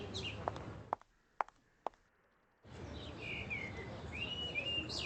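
Pigeons and small birds chirp in a Venice street scene from a Nancy Drew video game, with soft twittering calls over steady ambience that drops out briefly amid a few sharp clicks, then returns with bright chirps.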